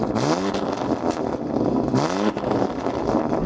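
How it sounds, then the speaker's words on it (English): A BMW M car fitted with an aftermarket sports exhaust revs hard and close, two loud throttle blips rising and falling over a steady rumbling idle. "You've got an aftermarket exhaust. Give it some revs."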